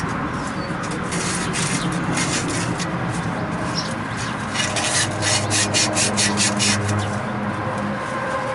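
Sandpaper rubs back and forth in quick, steady strokes with a dry rasping texture, fairly close, picking up in pace toward the end.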